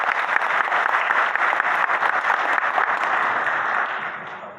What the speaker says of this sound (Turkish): Lütfen onları bir alkış.